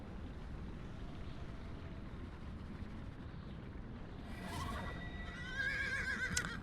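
A unicorn mount in the online game DDO (Dungeons & Dragons Online) gives a whinnying neigh over steady wind-like ambience, its calls rising near the end of the short clip.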